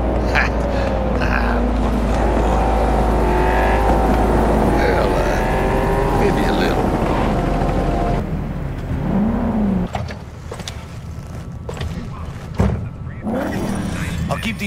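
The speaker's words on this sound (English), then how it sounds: "The engine." Car engine in the Cyberpunk video game on Xbox Series S, a steady loud idling drone that shifts pitch and then cuts off partway, with character dialogue over it.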